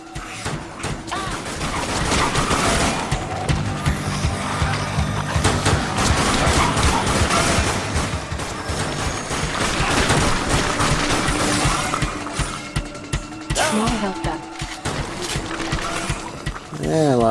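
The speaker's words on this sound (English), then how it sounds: "That's a decent mortar, I guess." Mortar blasts and rapid gunfire in the zombie shooter Dead Nation on PS3, a dense, continuous barrage of bursts and crashes with loud peaks throughout.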